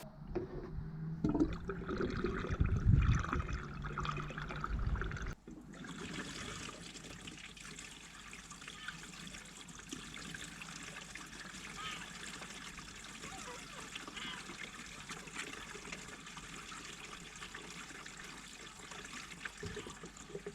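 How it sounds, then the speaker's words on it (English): Water pours into a campervan's water tank, a steady trickling flow that grows louder and more turbulent at first, then settles into a quieter constant stream. "Right, so let's go and put water in."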